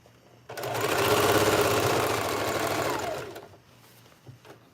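A sewing machine stitches a jacket seam in one steady, loud run of about three seconds, its fast mechanical whir starting and stopping abruptly over quiet room tone.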